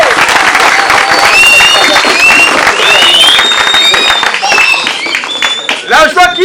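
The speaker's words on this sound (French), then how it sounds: "Applaudissez!" An audience at a school building inauguration in Kingandu claps and cheers, a dense burst of applause with shrill voices and whistle-like cries over it, tapering near the end.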